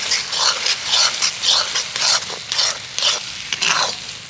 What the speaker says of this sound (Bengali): এবার আমি জাস্ট এইভাবে নাড়তে থাকবো